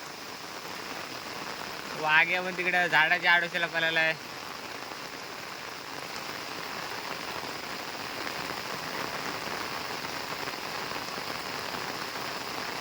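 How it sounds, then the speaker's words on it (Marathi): Heavy rain falls steadily on open farmland in the Konkan during traditional planting, a dense hiss from start to finish, with a voice speaking briefly near the start. "शेवटचा थोडा काम राहिलाय आणि जोरात पाऊस आला"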